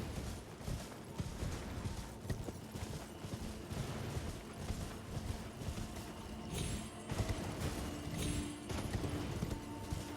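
Horse in Elden Ring galloping, a quick rhythmic drumming of hooves carrying steadily through the clip at moderate to low volume, with occasional creaks and mechanical clinks, no talk.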